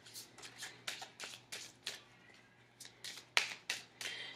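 Oracle cards are shuffled and pulled by hand: a close series of quick papery riffling bursts, about a dozen in quick rhythm, one sharper snap near the end, with no talking.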